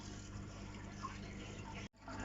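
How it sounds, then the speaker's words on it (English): Water running down plumbing tubes into an aquarium sump makes a steady, close, even rush that holds level throughout and cuts out briefly just before the end. "Now the water's flowing down the tubes and it should be in the sump."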